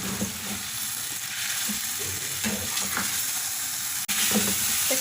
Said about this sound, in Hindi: तकरीबन 8 से 10 मिनट हमने इस चिकन को तेज़ आंच के ऊपर पकाना है